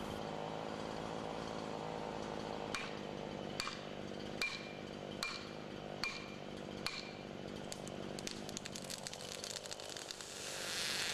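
A Jonsered chainsaw drones steadily while felling a tree, punctuated by a series of sharp, evenly spaced knocks like a wedge being hammered, with a brief louder surge at the end.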